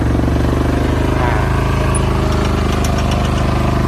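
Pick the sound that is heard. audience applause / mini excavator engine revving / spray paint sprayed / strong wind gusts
mini excavator engine revving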